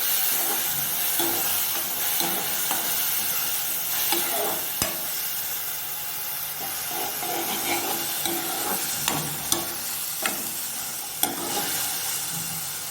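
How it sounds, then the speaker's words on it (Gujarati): Green onions sauté over a low gas flame in a pan: a loud, continuous sizzle and hiss with scattered spatula scrapes and clicks, heard up close with no talking. "સરસ રીતે સકળાઈ ગઈ છે ડુંગળી"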